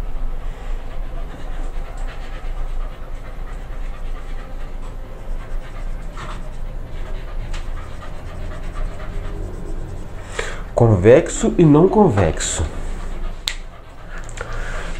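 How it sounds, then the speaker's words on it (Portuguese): Several dogs in a home studio pant and give a few short whimpering whines in a brief burst near the end, close by, over steady background noise and a person talking. "meu estúdio hoje está invadido de cachorro"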